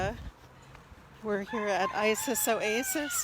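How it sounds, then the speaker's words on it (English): Chickens, Polish birds among them, cluck and crow in a lively burst close by at a farm oasis, rising after a brief spoken greeting and continuing in repeated rhythmic calls. "You can hear our chickens going off a bit as I walk by"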